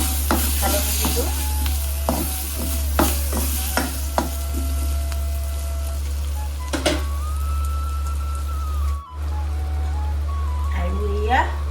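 Turmeric sizzles and fries in hot oil inside a pressure cooker, with a steady crackling hiss broken by repeated clinks and scrapes of stirring, close and fairly loud, plus a steady low hum underneath.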